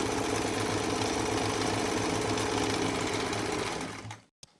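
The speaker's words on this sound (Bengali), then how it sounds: "এখন ওপেন সাইড আমি সেলাই করে নিব" A sewing machine runs continuously, stitching the open side seam of fabric for a palazzo trouser, a steady loud mechanical whir with rapid needle rhythm that stops abruptly near the end.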